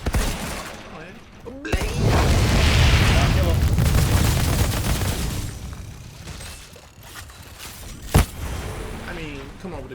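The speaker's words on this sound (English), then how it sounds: "No, that was a grenade." Grenade blast in the Outriders shooter game, a loud booming burst with gunfire-like crackle swelling mid-stretch, followed later by a sharp single bang, with voices talking over the action.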